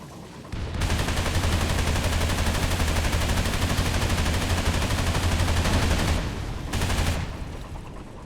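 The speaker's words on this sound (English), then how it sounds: "Then we'll shoot right through those barrels." Naval gunfire in the Xbox 360 game Aqua: Naval Warfare, a loud continuous rapid-fire barrage with a deep engine hum beneath, cutting off briefly near the end before a short final burst.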